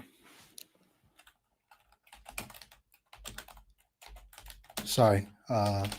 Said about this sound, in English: typing real quick.